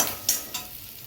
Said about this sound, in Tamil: அதையும் சேர்த்து அதை நல்லா வறுத்துக்கிறேன்.